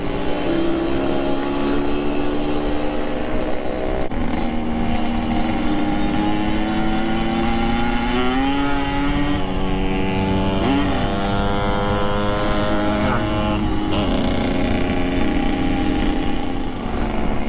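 A Yamaha RX King two-stroke street motorcycle at a street meet-up in Makassar revs loudly and repeatedly, rising and falling in pitch through long blips of the throttle, with no talking over the raw engine and exhaust.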